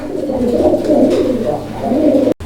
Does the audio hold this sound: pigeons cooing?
yes